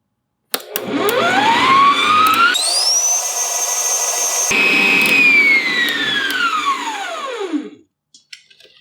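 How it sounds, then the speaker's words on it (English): A stand mixer beats pumpkin bread batter. Its motor whine climbs in pitch, holds loud and steady, then winds down over about seven seconds, with no talking. "I'm going to close the mixer. And I'm going to beat this up for just a moment."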